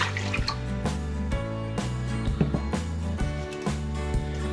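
Water and vinegar pour into a cooking pot in a home kitchen, a steady splashing trickle with small bumps and clinks, heard fairly quietly and up close.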